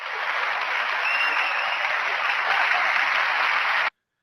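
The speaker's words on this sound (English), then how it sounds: "short round of applause" A studio audience applauds a rapper guest on an indie radio show, a steady dense round of clapping that holds evenly for about four seconds, then cuts off abruptly into silence.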